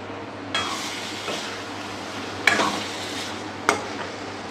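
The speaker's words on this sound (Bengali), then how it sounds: "আমি এতে আগে থেকে ভেজে রাখা আলুটা দিয়ে দিচ্ছি।" Fried potatoes are tipped into a pan of chicken curry and stirred, giving a steady sizzle with a few sharp scrapes and clinks of a spoon against the pot, heard up close with no talking.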